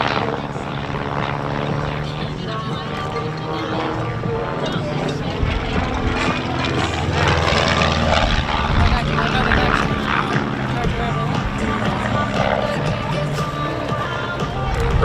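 A Long EZ aircraft's engine drones steadily and loudly through an air show aerobatic sequence, with a steady whine that swells slightly midway while an announcer talks over it.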